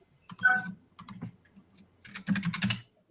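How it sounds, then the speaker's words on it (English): A typewriter clacks in quick irregular bursts of keystrokes, two clusters separated by a pause, close and fairly faint. "I hear the typewriter going."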